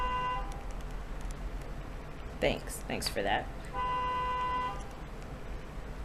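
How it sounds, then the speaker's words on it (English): Car horn honking outside, heard as muffled sustained toots at the start and again near the end, with a person talking in the middle. "somebody outside is honking for some reason"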